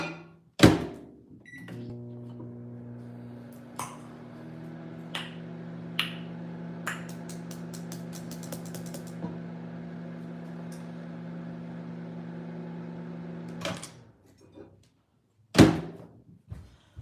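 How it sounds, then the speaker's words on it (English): Microwave oven heating a cup of coffee: a door thud and beeps, then a steady low hum running about twelve seconds with a few clicks, ending in a chime and the door slamming open. "I'm getting ready to heat this coffee up."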